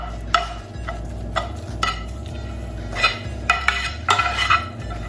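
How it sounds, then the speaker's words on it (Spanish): A utensil stirring condensed milk into carrot halwa in a pan, with repeated scraping clinks and taps against the pan in an irregular rhythm over a low steady background hum, close and moderately loud. "Y voy a mezclar la vuelta."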